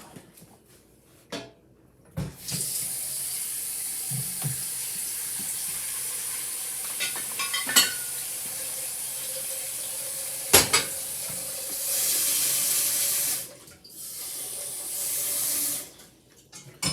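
Water runs steadily from a tap into a pot meant for poaching eggs, a continuous close hiss broken by a few metallic pot clanks, with a brief pause near the end before the flow resumes.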